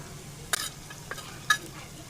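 Cashews fry in ghee with shallots browning in a pan, a soft sizzle broken by a few sharp clinks and scrapes of a utensil against the pan, close and fairly quiet, with no voices.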